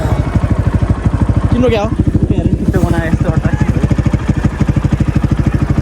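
A dirt bike engine in Chitwan runs steadily up close, its loud, rapid low-pitched pulsing continuing throughout while people talk over it.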